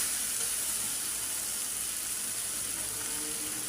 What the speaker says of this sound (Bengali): আলুটা একেবারে ভালো ভালো কষানো হয়ে গেছে, ভাজা ভাজা করে নিলাম।